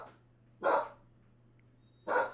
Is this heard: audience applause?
no